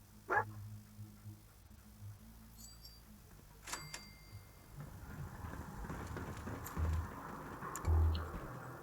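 Dogmeat, the German Shepherd companion in Fallout 4, sniffing and moving about over game ambience, with short sharp sounds near the start and end and a soft ticking patter between.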